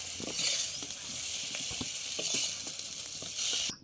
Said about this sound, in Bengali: আলু বেগুনও খুব ভালো করে ভেজে নিয়েছি লাল লাল করে